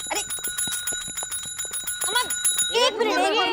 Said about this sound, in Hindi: थाने का घंटी है वो, मंदिर का घंटा नहीं है कि आप बार बार बजाएंगी